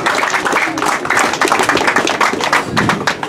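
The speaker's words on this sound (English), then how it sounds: "So give a big round of applause" Audience at a rugby club under-19 awards evening claps in a steady, fairly close patter of hands for a few seconds, moderately loud and without speech.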